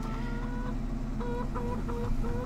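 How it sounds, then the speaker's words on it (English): Chickens cluck in Farming Simulator 2015, several short clucking bursts repeating over a steady low farm-machine drone, near and fairly loud. "Right then, chickens."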